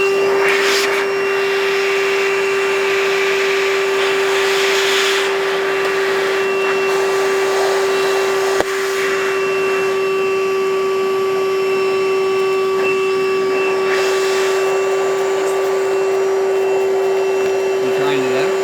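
A vacuum pump used on boat gear runs steadily and loudly throughout, a constant motor drone with a strong steady tone and a brief dip midway, with a voice faintly under it.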